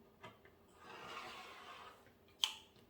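Fabric on a quilt block being trimmed, a soft continuous cutting rasp building over about a second, ending in a sharp click near the end, close by and quiet.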